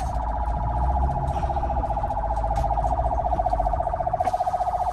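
A loud warbling siren wails continuously nearby, its rapid oscillating tone steady throughout, with faint background rumble.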